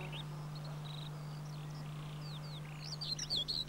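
A common whitethroat, a Sylvia warbler of scrub and bushes on the Isle of Portland, sings short scratchy chirping phrases at moderate distance over a steady low hum.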